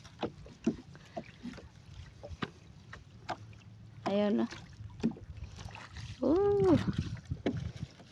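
Paddling a small wooden fishing boat, a bangka, with soft irregular splashes and drips of the paddle in the water, close by, while voices talk and call out over it.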